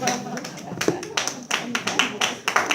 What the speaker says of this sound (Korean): 굉장히 박수를 최정환 형제가 박수를 많이 치네요.